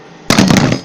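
A hammer taps slag off a fresh arc weld in a quick burst of close, loud metallic strikes, a rapid clattering series lasting under a second.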